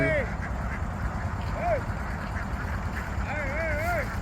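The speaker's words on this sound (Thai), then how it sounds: "เอาเป็ดมาลงนะครับ นี่เป็ดลงไป" Free-ranging ducks in an open rice field quack now and then, with steady low background rumble and people talking nearby.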